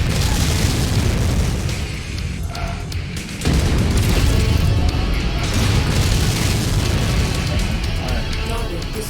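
Missiles striking in the MechWarrior 5: Mercenaries video game, a dense, loud, continuous roar of blasts and rumble with a sharp surge partway through.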